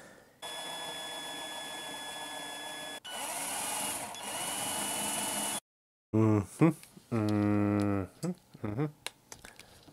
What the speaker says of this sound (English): Usually use a 1/8 drill bit for this part.